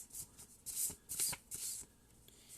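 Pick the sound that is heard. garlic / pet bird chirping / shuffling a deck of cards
shuffling a deck of cards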